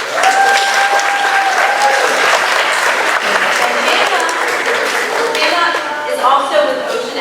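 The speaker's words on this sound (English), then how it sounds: "So let's please give her a round of applause." A school audience applauds loudly and steadily throughout, with cheers and whoops rising over the clapping from a large crowd.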